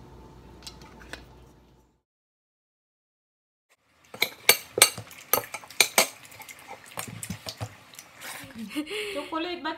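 A spoon stirs Nutella hot chocolate in a cup. There are a few faint clinks, then a gap of silence, then a run of sharp close metal-on-ceramic taps with a voice speaking over the end.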